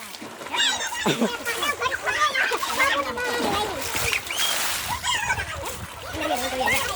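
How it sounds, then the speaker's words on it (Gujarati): Water sloshes and splashes repeatedly in irregular bursts as two buffalo calves drink, close by, with animal snorts and background noise mixed in. "જો આ બે પાડા પાણી પીવે તો ધરાય એટલું ઢોળાઈ"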